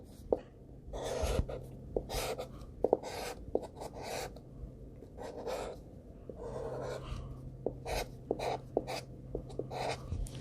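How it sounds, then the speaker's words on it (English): A pencil drawing lines on paper makes repeated close scratchy strokes in a steady back-and-forth rhythm, with a low background hum underneath. "I need to draw some over here."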